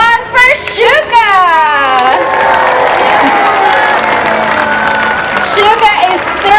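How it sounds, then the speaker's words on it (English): Crowd applause and cheering from an audience at a SeaWorld San Diego orca show, with children's shouts and an announcer's voice carrying over the steady clapping. "how about a big round of applause for Shouka!"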